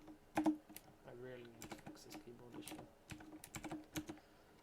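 Rapid clicking keystrokes on a computer keyboard during web development work, irregular bursts of close taps with a voice briefly murmuring over them.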